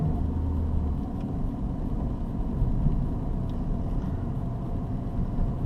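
A Mini One's engine hums in a low, steady rumble from inside the car while driving, with a constant drone of road noise and no speech.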